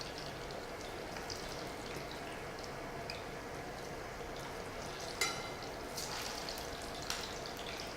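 Bananas frying in oil in a pan, a steady soft sizzle running throughout with a few brief sharper crackles and pops, heard close and alone without talk.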